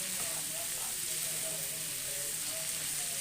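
Onions and tomatoes sizzle steadily in a pan while cooking for a village-style mutton sambar with field beans, a continuous bright frying hiss with faint stirring underneath.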